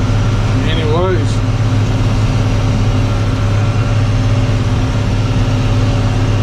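An old tractor engine runs while mowing hay during first cutting in May, a steady low drone that holds close and unbroken throughout, with a brief higher warble near the start.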